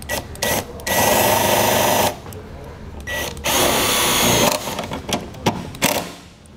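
Power drill driving a self-tapping screw into a towed vehicle's body, two close, loud whirring bursts of about a second each, separated by pauses with faint handling noise, the second run slowing as the screw seats.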